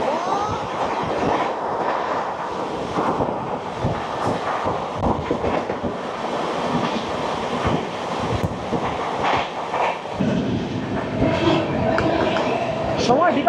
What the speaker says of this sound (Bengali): সময় বিকাল 6:27 আমাদের ট্রেন এই মুহূর্তে পার করছে বর্ধমান জংশন।